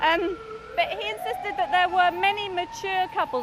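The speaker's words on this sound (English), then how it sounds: "Sorry about the noise, I think we have a police siren going by" A police siren rises and falls in a steady wail close by, a loud wavering tone running under a person speaking throughout.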